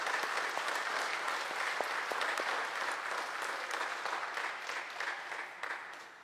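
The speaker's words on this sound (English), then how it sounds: "let us give a big round of applause" A church congregation gives a steady round of applause during Sunday Mass, dense and even at first, then gradually thinning and fading toward the end, with no speech over it.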